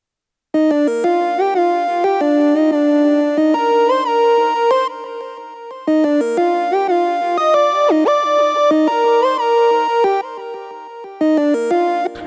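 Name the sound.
layered triangle wave synth sounds, happy hardcore remix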